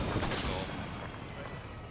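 Tank cannon backblast from an M1 tank in the Arma video game, a loud booming blast at the start whose rumble rolls on for the rest of the moment.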